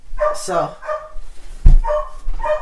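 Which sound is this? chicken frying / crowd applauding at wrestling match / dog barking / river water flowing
dog barking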